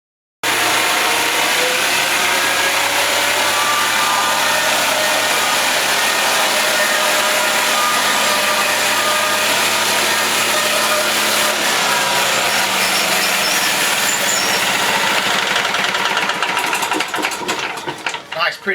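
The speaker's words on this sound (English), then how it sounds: "So next, let's get it to the sawmill." A sawmill cuts through ordinary store-bought #2 lumber for a countertop project, making a loud, steady high-pitched whine of blade in wood that runs on without a break and breaks up into rattling near the end.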